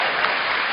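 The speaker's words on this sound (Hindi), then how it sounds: "इधर से तालियां कम बज रही हैं" An audience at a humorous Hindi poetry gathering claps in a brief, dense burst of applause, steady and fairly loud for under a second.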